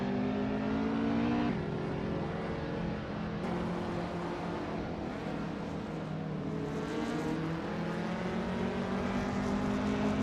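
A Peugeot 205 T16 rally car races with a steady, continuous engine drone that shifts pitch a few times as it changes gear, holding a constant loudness throughout with no talking.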